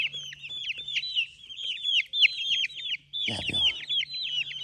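Dakan chickens and roosters cluck repeatedly at close range in rapid, overlapping bursts, with a brief louder squawk partway through and a voice speaking softly underneath.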